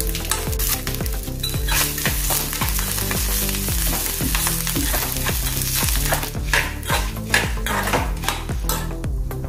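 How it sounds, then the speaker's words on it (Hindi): Cumin, dried red chillies and curry leaves crackle in hot oil with a bright, continuous sizzle, while a metal spoon clinks and scrapes against the pan throughout. "अपना मसाला अच्छे से तेल में तल गया है"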